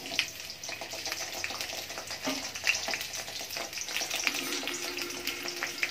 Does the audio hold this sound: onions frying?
yes